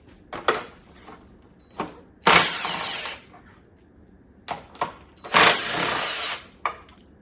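A power tool works bolts on a Honda Dio AF34 scooter in several close bursts: short zips and ratchet clicks, then two longer loud whirring runs, with quiet pauses between and no talk.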